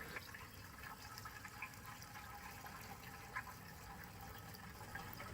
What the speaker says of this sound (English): We're just going to pour some fuel in here.